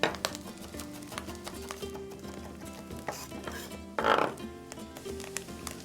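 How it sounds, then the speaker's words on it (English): Garlic cloves are mashed and then finely chopped with a knife in a kitchen while chorizo browns, giving quick irregular taps on a board over a low background, with a brief louder burst midway. "Peeling by mashing and then finely chopping."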